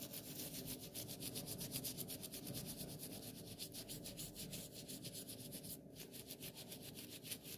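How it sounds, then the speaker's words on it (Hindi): Soft brush loaded with paste scrubbing toenails during a professional pedicure: steady, rhythmic bristle strokes rubbing close up, continuous for several seconds with no talking. "ब्रश के ऊपर लगा के नाखूनों को साफ़ करेंगे सॉफ्ट ब्रश के साथ, ताकि नाखूनों की गंदगी निकल जाए"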